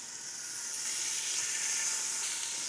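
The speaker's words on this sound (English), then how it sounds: "Let's get this stuff searing." Meat for kosher top-of-the-rib pumpkin chili sears in an Instant Pot, a steady, close hiss and sizzle that holds evenly throughout with no talk.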